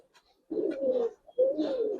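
Two low, rolling coos come from a Giribaz or coloured pigeon close by, each lasting about half a second with a short pause between them and nothing else heard.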